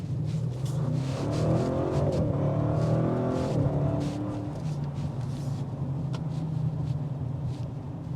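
A 2025 Audi RS7 Performance accelerating hard on a test drive, its engine note climbing through rising revs and a gear change, then settling into a steady cabin drone.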